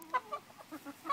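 Backyard hens in a coop, including a Polish cross Araucana, cluck in short, soft bursts a few times in quick succession, close by with no talk.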